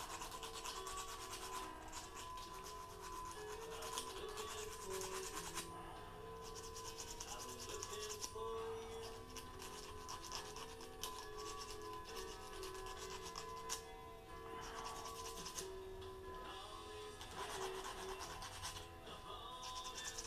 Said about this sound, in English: Get it all smoothed off. Get rid of all them sharp edges.